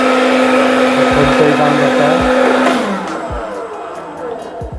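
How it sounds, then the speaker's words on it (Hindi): A hair dryer blows a steady loud whirring roar in a Dubai luxury hotel room, then cuts off and winds down, while a person talks briefly over it. "ये है हेयर ड्रायर।"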